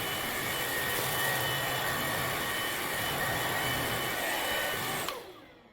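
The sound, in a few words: Bissell CleanView XR Pet 300 cordless vacuum cleaner running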